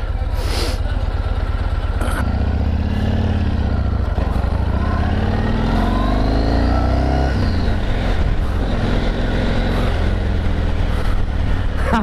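A Yamaha MT-01 1670cc motorcycle revving up close, its deep thumping idle climbing into a rising, throaty roar and then falling back to a low rumble, with a voice heard briefly.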